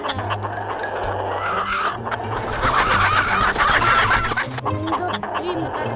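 Chickens cluck and squawk in the cockfighting video game Manok na Pula, a busy, close run of game sounds with a low repeating hum beneath and a louder flurry in the middle, while someone talks over it.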